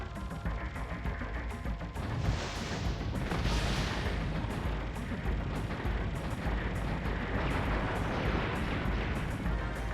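Grenade explosions in the shooter game Einhander form a loud, continuous wall of booming blasts and crashing debris that swells in a few bursts across the stretch, with no talk.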